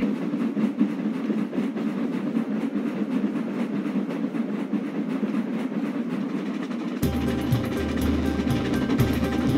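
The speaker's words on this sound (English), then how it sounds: "The heavy train drew out of the platform." A heavy train rumbles and clatters steadily as it pulls out of a platform, with rhythmic rail clicks; a louder, tonal engine or music-like layer joins near the end.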